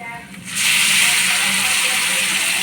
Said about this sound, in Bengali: এবার দিয়ে দেবো টমেটো পেস্টটা।